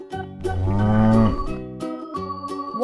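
A cow moos in a long, loud, harmonic call lasting about a second, followed by shorter lowing notes with a faint jingle, in a children's cartoon about farm animals.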